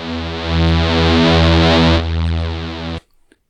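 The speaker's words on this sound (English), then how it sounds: "we can change the distortion level" A sustained, buzzy synth bass note from a SONICWARE Liven Bass&Beats with heavy distortion plays for about three seconds, its tone shifting midway, then cuts off abruptly.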